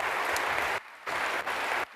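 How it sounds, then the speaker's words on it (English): Audience applause at a women's leadership forum during a municipal conference, a broad clapping wash broken by two abrupt gaps, moderately distant with no talk. "Everyone, a round of applause."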